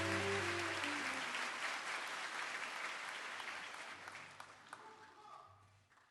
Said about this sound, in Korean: 수상자 모두에게 다시 한번 축하의 박수 부탁드립니다.